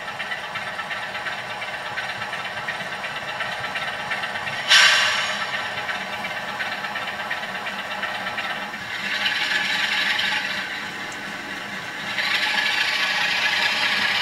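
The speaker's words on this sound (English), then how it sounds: "Class 47 has now switched duties. It's now been moved on to passenger service and is about to leave North Fangor," Model Class 47 diesel locomotive pulling a passenger train away from a model railway station platform, a steady mechanical rattle and rail hum with a sharp clunk early on and swelling running noise, no voices.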